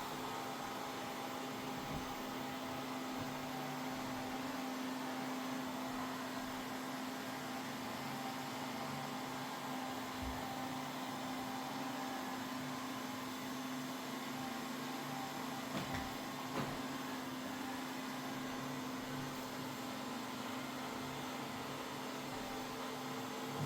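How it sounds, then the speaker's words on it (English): A Mova Z60 robot vacuum runs with its suction turned up, giving a steady, droning whine with a constant tonal hum that holds for the whole stretch, with no talking. "I just ramped up the suction."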